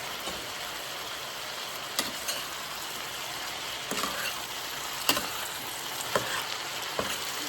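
Saltfish, okra and butterbeans fry in a pot with a steady, even sizzle, broken by occasional soft knocks and scrapes of a spoon stirring, close and moderate in level.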